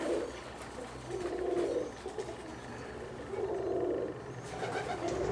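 Russian Omsk and Siberian pigeons coo inside a loft, repeated low throaty coos rolling in several close bouts with short pauses between them, no talking.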